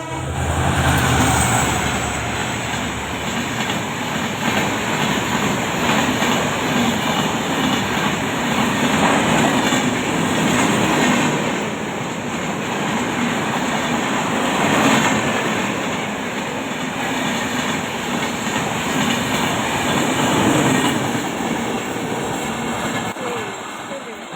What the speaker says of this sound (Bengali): তারপরে দেখো একটা ট্রেন আসছিল